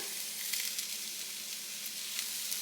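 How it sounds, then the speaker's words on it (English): Pre-packaged coleslaw mix fries in a pan with liquid aminos added, giving a steady, bright sizzle with occasional crackles and stirring scrapes, close and continuous with no voices. "I'm going to go ahead and add my liquid aminos in"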